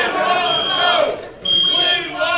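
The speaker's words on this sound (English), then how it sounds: "fire alarm just went off. We have to clear it." At a free speech event disrupted by protesters, a building fire alarm gives loud, high, steady electronic tones that break off briefly and resume, over a noisy crowd and shouting voices.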